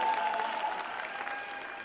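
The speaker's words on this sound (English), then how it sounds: "Round of applause, please." Brief burst of audience applause during a stage celebration event, steady clapping from a crowd with no talk over it.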